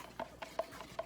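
Thinned deck sealant mixture being stirred in a container, four or five evenly spaced soft scraping strokes at close range, quiet and steady with no talk.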